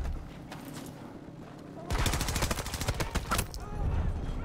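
Automatic gunfire in the video game Battlefield 2042 bursts out loud and rapid in a dense rattling volley, preceded by quieter battle ambience.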